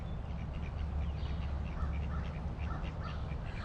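Ducks quack in a park, a faint scatter of short calls repeating over steady low background rumble.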